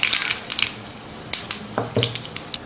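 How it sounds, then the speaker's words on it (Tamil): Mustard seeds dropped into a little hot oil for tempering give sparse, sharp pops and crackles scattered at irregular intervals, with no talking. "கடுகு போட்டுக்கலாம்."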